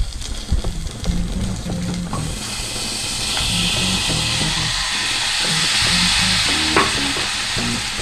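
Chicken pieces frying and sizzling in a pan for a Telugu-style chicken egg curry, a steady loud hiss building after a few seconds with occasional stirring clatter, no talk.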